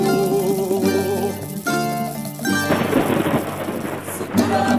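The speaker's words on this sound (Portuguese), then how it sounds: "Segura lá vem trovoada" Thunder rolls in over samba percussion and melody in a carnival samba-enredo from 2019, starting as music and then breaking into a loud, sustained broadband rumble with a rain-like hiss.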